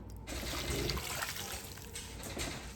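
Reserved broth pours into a bowl of rice-based ram boudin mixture in a Cajun kitchen, a short, steady liquid trickle and splash lasting a few seconds, close and moderately loud.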